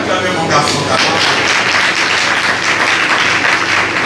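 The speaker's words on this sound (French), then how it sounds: "Est-ce qu'on peut acclamer mon garçon?" A church congregation at a Sunday service breaks into sustained applause, dense steady clapping filling the room for about four seconds with a faint murmur of voices mixed in.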